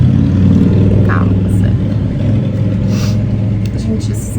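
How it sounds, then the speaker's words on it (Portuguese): Loud traffic of motorcycles and cars rumbles outside in a continuous low drone, while someone speaks briefly over it indoors. "esses motos e carros com barulho, assim... complicado."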